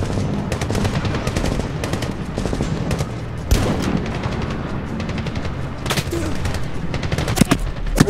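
Enemy gunfire in Medal of Honor rattles on continuously with overlapping automatic bursts, a few heavier bangs and shifting distances, loud and busy throughout.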